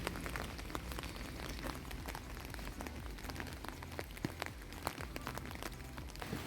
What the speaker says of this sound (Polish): Taka dzisiaj pogoda deszczowo.